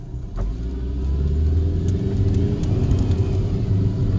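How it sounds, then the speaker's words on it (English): A 2006 Saab 9-5 Turbo pulls away from a stop with a steady, loud engine rumble, and a thin whine from a bad idler or belt tensioner pulley rides above it. "See if you guys can hear that whine when I take off from the stop sign here."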